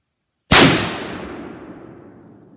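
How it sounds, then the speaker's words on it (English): A single sharp, loud gunshot from a TC Prohunter .300 Win Mag rifle cracks out close by after a silent moment, then a long fading rumble trails off. "So, I'll let's fire some and see what happens."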